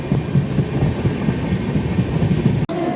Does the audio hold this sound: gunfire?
no